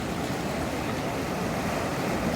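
Ocean waves roar against the rocks at Kanyakumari beach at sunrise, a steady, loud broadband wash of surf with no break, close by and alone.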